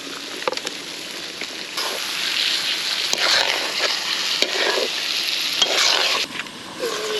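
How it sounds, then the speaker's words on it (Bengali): Pieces of Chinese duck are stir-fried in oil with cumin in a wok, giving a continuous hiss and sizzle broken by scraping stirs and clatters, close up and with no talking. "আজকে চীনা হাঁস ভুনা হবে"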